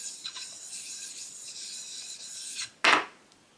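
Long convex grooming shear blade rubbed on a Nagura sharpening stone, giving a steady rasping scrape that runs continuously, then a brief louder stroke near the end, with no talking.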